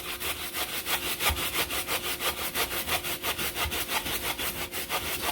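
A very large onion is rubbed against a grater in quick, even rasping strokes, about four or five per second, close up and steady with no talk over it.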